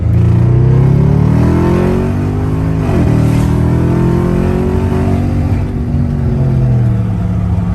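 A BMW F10 550i with the N63 twin-turbo V8 and a JB4 tune pulls hard through second gear from 3,000 rpm, a loud, continuous rising engine roar with a brief dip near the shift, heard from inside.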